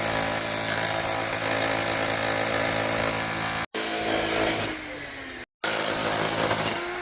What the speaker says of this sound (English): right now Trent is chipping away